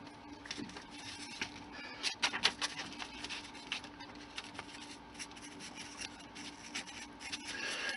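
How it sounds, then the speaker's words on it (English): Rust weathering medium rubbed into the grooves of a styrene model, heard as faint, close, irregular scratchy brushing strokes with a few firmer rubs, alone and quiet. "I'm working it into the grooves because that's where I think the rust would be more prevalent"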